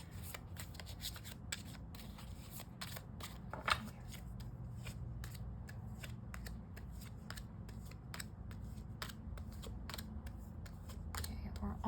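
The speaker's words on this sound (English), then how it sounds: "I am not taking the cards that are already flipping over." Tarot cards are shuffled by hand during a pick-a-card reading, giving a steady run of soft riffling and flicking clicks over a low background hum.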